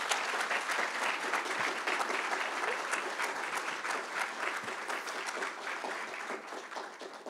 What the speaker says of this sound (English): giving a huge round of applause